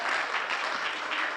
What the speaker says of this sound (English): I see someone clapping